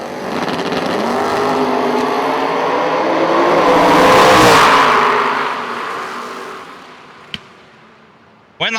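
A top dragster at a bracket drag race roars past, its engine building to a loud peak and then fading into the distance, followed by a couple of sharp pops at the end.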